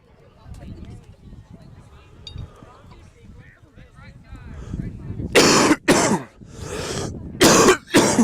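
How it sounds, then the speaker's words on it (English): During a high school baseball broadcast between the Paola Panthers and Prairie View Buffaloes, a commentator's low talk gives way to several loud, harsh coughs right into the microphone, in quick bursts. "I just realized I coughed in the mic."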